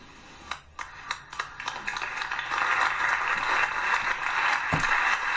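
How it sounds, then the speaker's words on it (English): A welcome-home ceremony in a TV show brings scattered claps that grow into a steady crowd applause and continue at a moderate level under background noise, with a sharp thump near the end. "Do people clap at these things?"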